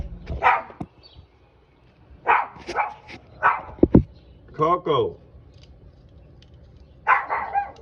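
A dog barks and yips in a few sharp bursts while someone talks and calls out nearby.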